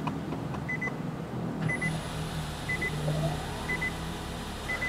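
A 2020 Nissan Kicks e-Power starting up, its engine running as a steady low hum inside the car, with a soft electronic beep repeating at regular intervals throughout.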